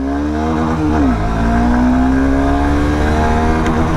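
A KTM Duke 160 or Honda Hornet 2.0 motorcycle at full throttle in first gear, its engine note loud and close, sweeping smoothly upward in pitch after a brief dip as revs climb steadily.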